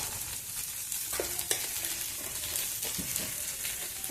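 Potatoes, tomatoes and turmeric sizzle steadily in a pan for lemon rice, with a few close spoon-stirring scrapes and clinks breaking through the frying hiss.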